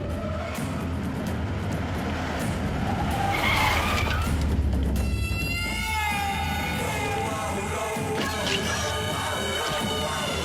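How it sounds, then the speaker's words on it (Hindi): Tires skid and squeal loudly as a car arrives in an Allu Arjun action movie, a rough rumbling slide giving way to long wavering screeches that carry on to the end. "सरकार की गाड़ी आ रही है।"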